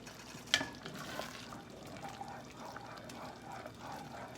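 A utensil stirs hot sauce vigorously in a pan, giving a soft, continuous swishing with faint simmering and one brief clink near the start, quiet and close.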